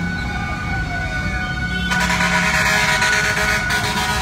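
Fire truck sirens arrive at a fire on Almeda corner Tayuman in Santa Cruz, Manila, a steady wail over street noise that swells louder and brighter about halfway through, with no talk.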